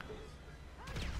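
Video game explosions in a multiplayer lobby: a short burst of booming blasts with rumbling low thuds, breaking in loudly after a steady quieter game background.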